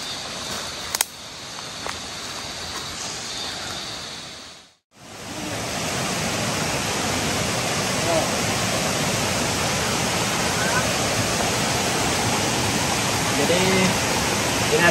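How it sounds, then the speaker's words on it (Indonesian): River rapids flowing down from Narkata waterfall in the East Kalimantan jungle, a loud, steady broadband rush of water filling the whole stretch, with a brief drop near the middle. "Riam dari air terjun Narkata ya, aliran sungai dari air terjun Narkata yang mengalir ke daerah terendah."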